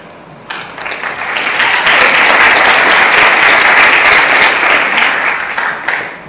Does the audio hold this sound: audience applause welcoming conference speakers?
yes